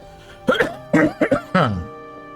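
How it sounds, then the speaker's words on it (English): Several harsh coughs in a rough cluster, close and loud, with short pauses between bursts and a quiet room behind them. "How long have you had that cough?"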